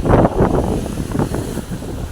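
Foamy sea waves wash onto the shore at Shrivardhan beach near Harihareshwar, a steady close roar of surf mixed with heavy wind buffeting the microphone, with no talking.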